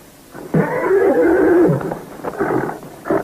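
A horse neighs close up, a loud drawn-out whinny followed by shorter snorting bursts, with no talk over it.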